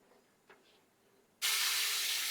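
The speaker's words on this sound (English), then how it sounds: "Add the whole spices and the bay leaves and cook it for a few seconds" Whole spices and bay leaves hitting hot ghee in a pan, bursting into a loud, sustained hissing sizzle after a quiet stretch with a faint clink.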